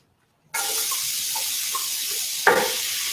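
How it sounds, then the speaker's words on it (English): Sambal of roughly blended chili and onion hits a hot pan and bursts into loud, steady sizzling hiss that holds throughout, with a brief clatter of stirring partway through. "I'm going to start frying up the sambal, which is just, like I said, just chili and onion."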